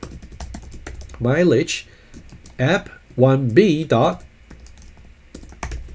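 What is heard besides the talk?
typing on a computer keyboard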